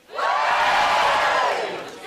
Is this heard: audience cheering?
yes